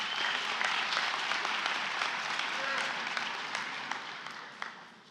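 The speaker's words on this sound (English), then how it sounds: "Give yourselves a round of applause." A graduation audience at Ottawa Hills High School claps in a steady, broad wash of applause that gradually thins and fades, with a few scattered claps standing out near the end.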